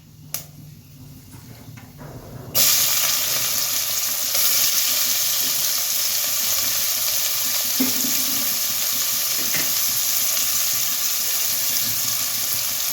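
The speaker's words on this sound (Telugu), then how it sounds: "ఇప్పుడు ఉల్లిపాయలు పచ్చిమిర్చి కరివేపాకు వేసుకుందాము" Onions, green chilies and curry leaves hit hot seasoning oil in a pan. A quiet start gives way after a couple of seconds to a sudden, loud, continuous sizzle that holds steady to the end.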